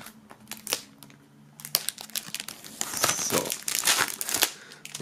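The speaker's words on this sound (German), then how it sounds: "wenn ich jetzt die Folie abnehme" Plastic shrink wrap peeled off a metal band's album box set, a run of close crinkling and crackling bursts, irregular and fairly quiet, with no talk.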